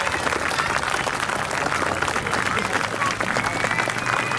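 An audience at an outdoor military battle reenactment applauds, a dense and sustained round of clapping at close range, steady and loud, with voices mixed in among the crowd.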